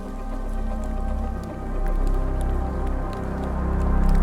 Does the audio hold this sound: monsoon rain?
yes